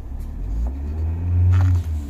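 Engine of a 2018 Kia Picanto with an automatic transmission and a check-engine fault, revved from idle: a steady low rumble that swells as the throttle opens and holds near its peak before easing slightly, close and without talk.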